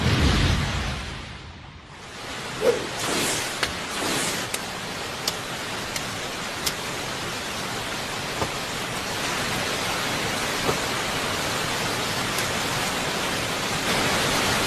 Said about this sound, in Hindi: बारिश हो रही है, इससे उनकी गंध मिट जाएगी।